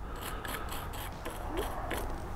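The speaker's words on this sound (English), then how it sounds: "I'm gonna start with a nylon brush and see if it takes any of it off" A nylon brush scrubs plastic and a brake fluid reservoir area on a Yamaha V-Star 650 motorcycle, giving a run of rhythmic, close bristly strokes, about seven short scrapes in quick succession.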